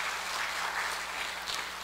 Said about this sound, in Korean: 상영 잘 됐으면 박수 한번 하세요.